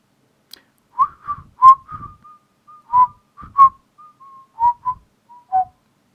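Luigi whistles a short tune in the video game Luigi's Mansion: a clear, solo run of about a dozen notes, some held and some clipped, close and alone against silence.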